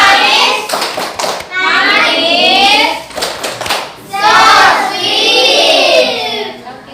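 Children clap together in the 'tepuk coklat' routine in a fifth-grade classroom lesson, giving bursts of rhythmic clapping in two main rounds, loud and close, with young voices mixed in.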